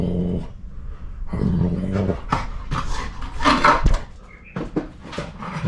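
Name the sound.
dog barking and whimpering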